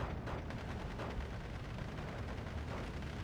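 Dense, continuous gunfire from Thompson submachine guns in the WWII strategy game Steel Division 2, a steady rumbling barrage of overlapping shots and distant booms with no pauses.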